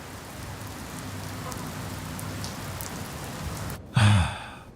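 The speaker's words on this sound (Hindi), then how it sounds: "बारिश बहुत तेज हो रही है" Steady rain hisses throughout at a moderate level, with a brief louder gust or splash of noise near the end.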